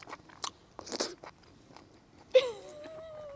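Crunchy bites of spicy yellow Thai curry cooked over a campfire, with a few sharp close crunches at the start followed by quieter chewing, then a brief whistling tone over faint background noise.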